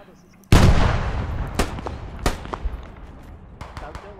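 Gunfire in the Squad video game: one heavy, booming shot opens abruptly, then scattered sharp reports follow at irregular intervals, loud and close with a rumbling tail, while players talk over it.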